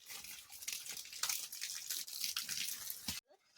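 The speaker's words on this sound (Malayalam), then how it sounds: "ഈ നല്ല ശക്തിക്ക് വെള്ളം വരുന്നുണ്ട്" Spring water gushes strongly from a hillside, a close, steady rushing splash that runs on without talk and cuts off near the end.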